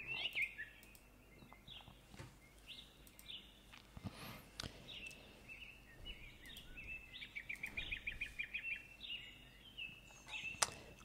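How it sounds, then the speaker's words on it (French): Several birds chirp and trill outdoors just after sunrise, with bright repeated calls and short sweeping notes over a low, steady ambient background. Intermittent soft thumps are also present. "Les oiseaux sont de retour."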